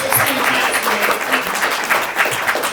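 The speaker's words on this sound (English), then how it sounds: "And so yes, you can clap for that." An audience applauds during a public talk by librarians: moderate, continuous clapping that stays fairly even, with faint murmuring voices mixed underneath.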